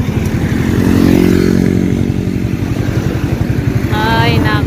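A motorcycle engine idles and rumbles close by in heavy street traffic, steady and loud throughout.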